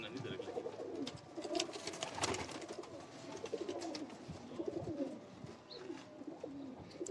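Pigeons of a prized breed coo in a loft setup, a steady low murmuring layered through the whole stretch alongside scattered higher bird calls and background rustle.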